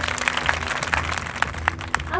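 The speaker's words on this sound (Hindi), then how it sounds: "एक बार जोरदार तालियां" A crowd claps steadily at a women's college annual function, with scattered sharp hand claps standing out, fairly close, continuing throughout.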